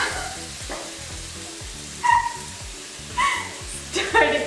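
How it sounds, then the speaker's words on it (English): Food sizzles and crackles steadily in a hot pan, with occasional brief higher clinks or squeaks over the continuous frying. "once this starts to sizzle, we will then put the lid on and let it sizzle away"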